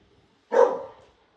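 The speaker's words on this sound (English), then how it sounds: "Dogs." A dog lets out a single sharp bark nearby, loud and short, that trails off quickly, with near silence before and after.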